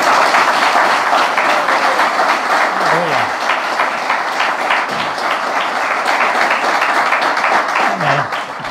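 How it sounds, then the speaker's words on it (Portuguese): A church congregation gives a loud, sustained round of clapping that fills the whole stretch, with voices mixed into the dense applause. "Irmãos, dá uma salva de palmas para Jesus."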